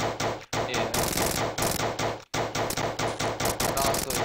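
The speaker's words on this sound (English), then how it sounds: "Like, for the machine gun." Rapid automatic gunfire from a machine gun in a zombie defense video game, loud sustained bursts with two brief gaps, dense and close throughout.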